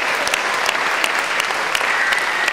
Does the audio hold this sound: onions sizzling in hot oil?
no